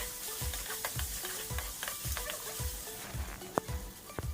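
Onions with salt sizzle steadily in a hot pan as a spatula scrapes and stirs in a regular rhythm, close and continuous.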